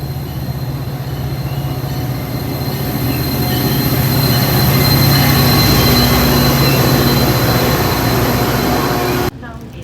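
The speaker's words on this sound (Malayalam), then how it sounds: "ട്രെയിൻ വന്നു പോയി." A double-decker train at a sunny station, loud rumbling and clattering of wheels on rails with a sustained squealing tone, running close by until it cuts off abruptly near the end.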